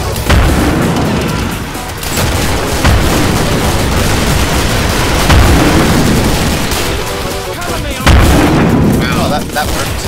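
Flame grenades burst over and over in the Killing Floor video game: loud, dense booming blasts and crackling fire fill the scene almost without a break, with heavy hits near the start and again around the eighth second.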